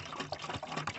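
Windshield washer fluid poured from a jug into the reservoir of a 1985 GMC pickup, a faint, close gurgling gush of liquid with uneven splashes, alone.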